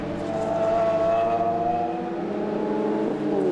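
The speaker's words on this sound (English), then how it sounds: "You hear the gravel track before you see the car." A Lotus race car running at Oulton Park circuit, a steady engine whine with rising tonal harmonics, sustained and fairly close, with a gravel crunch implied as it travels over loose surface.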